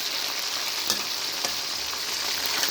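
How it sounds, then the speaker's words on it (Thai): Marinated, flour-coated pork deep-frying in hot oil for a Thai dish gives a dense, steady crackling hiss with faint pops, close and loud throughout, with no talking. "หมูทอดทอดง่ายครับผมทอดง่ายกินง่าย"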